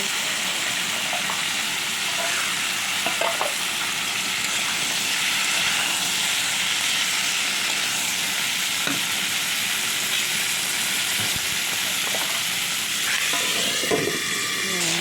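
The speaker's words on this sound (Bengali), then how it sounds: "ডাটাগুলো দিয়ে দিলাম ডাটাগুলো একটু ভালো করে ভেজে নেব" Vegetable stalks fry in hot oil in a pan while being stirred, giving a continuous loud sizzle with occasional scraping and clatter of the spatula close up.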